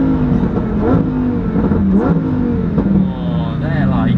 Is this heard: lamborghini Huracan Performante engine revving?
yes